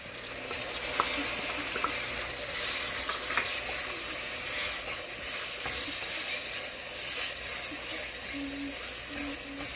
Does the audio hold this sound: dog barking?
no